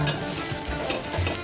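Sanna polo, a Konkani rice-batter snack, frying in oil on a pan over medium flame just after being flipped, giving a steady close sizzle with soft crackling throughout and no talking.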